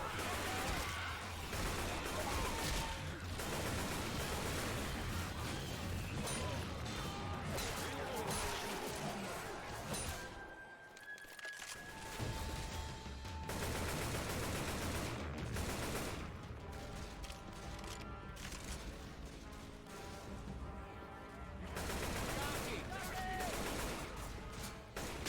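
AK rifle fire in Left 4 Dead 2, loud dense bursts of gunshots running through most of the stretch with a brief lull in the middle, mixed with other game noise and voices talking over it.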